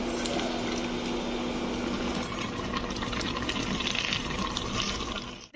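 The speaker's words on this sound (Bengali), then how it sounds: "সিমইটা ফুটে ফুটে উঠেছে।" Seemai vermicelli boiling in a pot, a dense continuous bubbling and churning wash of liquid, close and steady, fading out at the very end.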